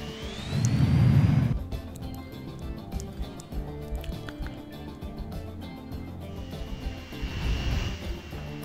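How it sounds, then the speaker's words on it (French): Airplane arriving in the Transport Fever game, with a loud engine roar swelling at the start and then easing into a steady background hum under busy game sounds. "on a un avion qui arrive ici avec 21 passagers"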